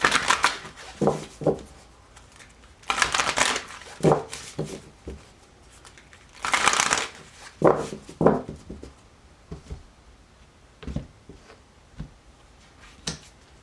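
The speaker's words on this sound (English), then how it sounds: "couple more shuffles here" Tarot cards being shuffled in a series of crisp riffling bursts and soft taps, close up, with pauses between each shuffle.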